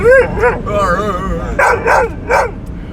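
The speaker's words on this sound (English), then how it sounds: "this dog is going to bark the entire time" A dog barks and yips in short bursts, close and loud, with whimpering tones between barks and someone talking nearby.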